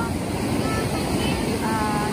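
Ocean surf at a beach on a day of strong, rough water, a steady loud wash of waves mixed with wind buffeting the microphone and no pause.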